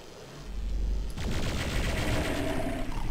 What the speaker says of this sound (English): the plasma gun actually works well against them